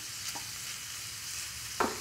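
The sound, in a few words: garlic frying and being stirred in a pan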